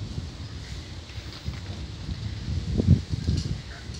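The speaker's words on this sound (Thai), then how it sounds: "ใกล้มามืดแล้วค่ะมาถ่ายมืดมืดพามารับลมเย็นเย็นชื่นใจ" A strong evening wind blows outdoors, a steady close rushing roar that buffets the microphone and swells slightly toward the end, with no voices.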